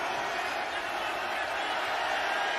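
Football stadium crowd at an XFL 2023 game between the St. Louis BattleHawks and Seattle Sea Dragons, a steady, broad roar of many voices swelling ahead of a 44-yard field goal attempt.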